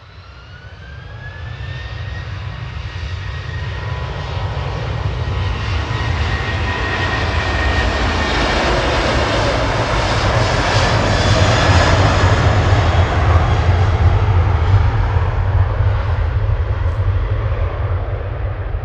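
Jet airliner at night on runway 23L at Manchester Airport, engines spooling up into a loud, sustained takeoff roar with a rising whine, heard from a distance and building steadily.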